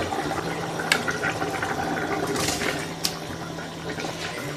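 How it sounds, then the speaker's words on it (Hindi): Water gushing and splashing into a pot as rice soaked for two hours is tipped in for home-made pulao, a continuous pouring wash with a couple of sharper splashes. "ये हम अपने चावल इसमें डाल रहे हैं।"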